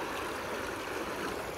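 Brenta river water flowing and rushing, a steady broadband wash close by, loud and unbroken, with no voices.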